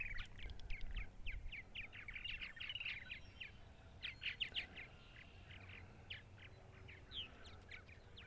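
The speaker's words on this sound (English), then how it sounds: "there's some bird activity at my neighbor's purple martin house" Purple martins calling around a martin house near a cedar tree on Eastern Long Island, New York, in spring, with quick, scattered chirps and gurgling notes at moderate distance over a low background hum.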